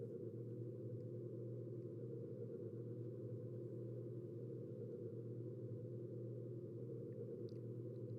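A steady, low droning rumble with a watery, submerged character, processed through a pitch shifter with echo added, running continuously and evenly throughout with no voices.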